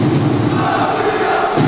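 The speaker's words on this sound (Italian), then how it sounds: "Tifosi che provano a farsi sentire dopo aver invitato i ragazzi a darsi una scossa forte" Basketball fans cheering in the arena at a Serie B game in Pavia, a loud continuous crowd roar with a dull thud near the end.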